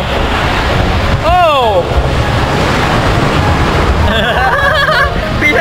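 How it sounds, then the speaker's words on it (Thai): Strong sea waves roll and crash continuously on a beach in Phetchaburi, Thailand. The surf is loud and close, with wind buffeting the microphone, and voices and a child's high squeals come through over it. "ตรงนี้คลื่นแรงมากเลย"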